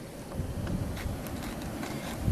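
Strong wind gust during a blizzard, blowing snow off a roof: a steady, broad rushing roar with buffeting wind noise on the microphone, fairly close and continuous, with no talking.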